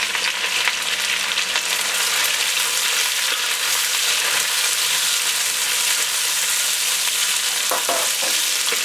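Onions, celery and sweet peppers fry in a pan for a yellow chicken curry, giving a steady, close sizzle with occasional stirring scrapes near the end.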